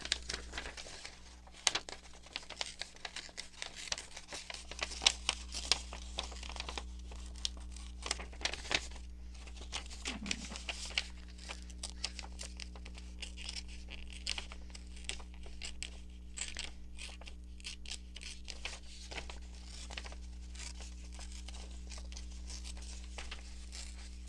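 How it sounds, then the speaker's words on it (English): Paper torn slowly and carefully around a cut-out collage figure, giving scattered rips and crinkles over a constant low electrical hum. "I'm going to just tear around her, like a bit of a fussy tear"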